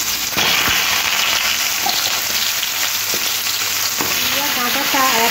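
Cut pumpkin and drumsticks frying in oil with panch phoron, two dried chillies and a bay leaf, a loud steady sizzle close by with several sharp spatula knocks and stirring scrapes, no talk.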